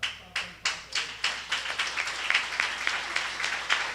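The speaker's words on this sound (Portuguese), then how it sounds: "Essa salva de palmas é em agradecimento, né?" Church congregation applauding in thanks during a service, steady clapping from many hands that builds from sparse claps into a continuous moderate round of applause.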